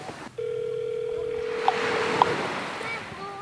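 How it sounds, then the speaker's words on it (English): A steady telephone dial tone hums on a beach during shark fishing, with ocean surf washing underneath, followed by a few faint short beeps near the end. "Phone call."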